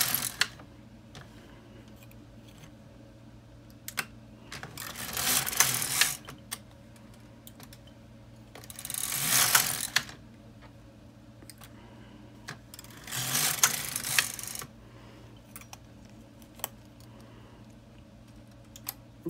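An LK 150 knitting machine carriage works a Christmas stocking heel in three separate rasping, whooshing passes across the needle bed, with light clicks and taps of the mechanism in the quiet gaps between passes, no talking.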